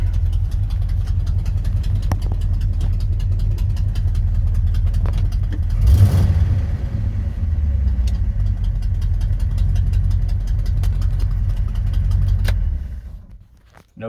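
A 1971 Ford F250 Highboy truck with a tuned carburetor idles close by in a steady, loud low rumble that holds evenly for most of the span before cutting off near the end.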